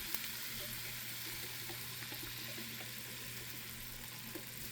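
Food sizzles steadily in a hot pan as a generous pour of low-sodium soy sauce goes in, a constant close frying hiss with no voices.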